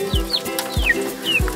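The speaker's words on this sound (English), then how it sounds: "Got an update on the chickens. The little chicks here." Young chicks squabble over a bug, giving short rising chirps and clucks at close range amid light outdoor background.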